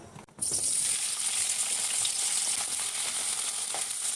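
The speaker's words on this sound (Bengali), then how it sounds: "তেল দিয়েছি, তেলের মধ্যে আলু পটলগুলো ভেজে নিব।" Potatoes and pointed gourd frying in hot oil with turmeric and salt, a loud, dense, steady sizzle close up that starts abruptly and holds without pause.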